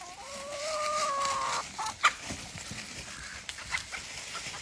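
Chickens and a rooster cluck around a backyard flock with ducks nearby, a few clear calls and squawks rising close by early on, then scattered softer clucks and rustling.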